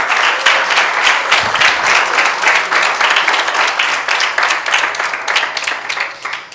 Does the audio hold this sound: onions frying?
no